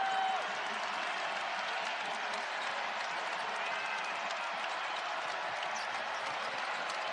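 Crowd at a college basketball game, Virginia Tech versus Dayton, roaring with a dense, steady wash of cheering and applause that holds evenly throughout at moderate distance.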